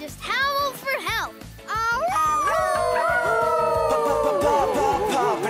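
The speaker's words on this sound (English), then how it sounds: "if you're ever in trouble, just howl for help." Cartoon dog from PAW Patrol letting out a long, wavering howl after quick yips, loud and close, with the rising and falling pitch stretching over several seconds while a voice speaks at the start.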